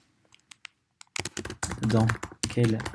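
Faint, scattered computer-keyboard clicks as a quiz question is typed, heard briefly at the start before a close voice begins talking and covers the remaining taps.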